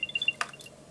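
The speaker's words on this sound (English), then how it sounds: "you'll hear a chime that should sound like this." An Apple AirTag plays its setup chime right after its battery is connected: a few short, quiet, bright chiming tones in quick succession, then a single brief soft burst, heard alone.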